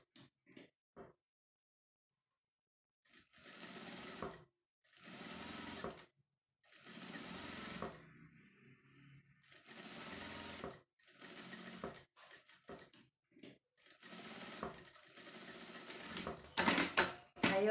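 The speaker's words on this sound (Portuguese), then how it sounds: "Agora, eu vou passar uma costura de três pontos só nessa parte de cima, que é para dar o acabamento." Household sewing machine runs a three-step zigzag stitch along the top edge of a small fabric manicure-kit pouch, whirring in several bursts of a second or two separated by pauses, close and fairly loud, with faint handling sounds between runs.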